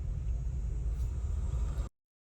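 Vehicles roll past on a road near a national park in the Black Hills, making a continuous low engine rumble for about two seconds before cutting abruptly to silence.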